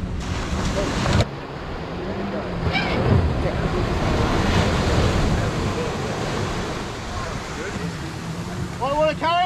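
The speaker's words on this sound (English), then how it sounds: "White water coming and clear." Ocean surf breaking at Mullaloo beach during a surf boat sweep training session, a steady rushing wash of white water with wind noise, and people calling out over it near the end.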